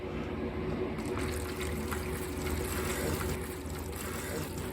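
Earth nectar liquid fertilizer poured into the bottom of a pot, a steady close gurgling trickle and splash of liquid running continuously throughout.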